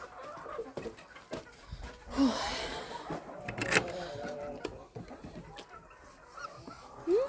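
A bantam rooster's clucks and short calls amid farmyard noise, fairly close, with scattered rustling and a few sharper cries.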